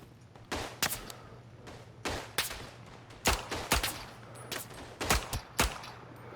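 Browning rifle gunfire in the World War I shooter Verdun: a series of sharp, loud shots spaced irregularly, roughly ten reports over several seconds, with a steady low hum underneath and no talking.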